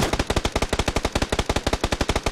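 Automatic M4 rifle fire in the battle royale game PUBG: a rapid, evenly spaced stream of about twenty sharp, loud shots in one sustained burst.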